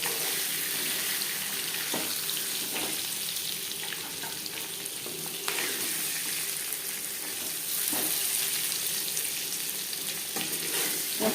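Eggs fry in a pan for an egg curry, a continuous close sizzle with soft scraping and clattering stirs at intervals, steady and fairly loud, no speech.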